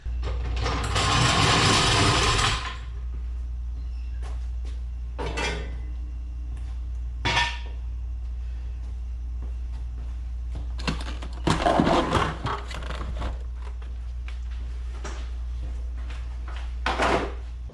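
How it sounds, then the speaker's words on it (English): Metallic clanks and ratcheting bursts of a car jack being worked under a Volvo, separated by quiet stretches over a low steady hum. "sorry for the jack noise"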